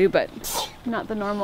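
A single sharp, breathy sneeze bursts out briefly between stretches of conversation, close to the microphone, with a person talking just before and after it.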